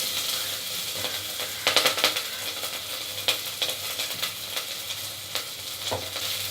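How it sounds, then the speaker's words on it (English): Chopped ginger and green chilies sauteing in oil over a low flame, giving a continuous soft sizzle broken by bursts of spatula scraping and clicking against the pan, close and with no voices. "Let it lightly saute on low flame for about a minute"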